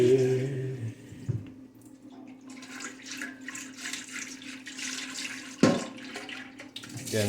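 A pot is rinsed under a running tap while bean dishes are being prepared, with a steady rush of water, splashing shifting as the pot moves, and a sharp knock around the middle.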